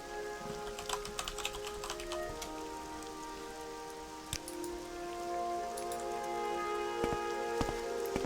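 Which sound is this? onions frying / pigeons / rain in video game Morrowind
rain in video game Morrowind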